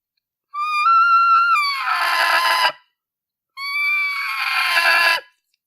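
A diaphragm mouth call imitating a turkey gives two drawn-out notes, each starting as a clear tone and rolling over into a harsh raspy break, close and loud with silence between them.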